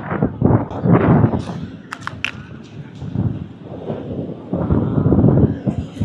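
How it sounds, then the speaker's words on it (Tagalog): Gusty wind buffets a handheld microphone along Manila Bay, producing loud low rumbling bursts that swell and fade throughout, with a few sharp taps and faint background sounds in between. "Lubag-lubag tayo na natin, mahangin. Medyo mahangin po."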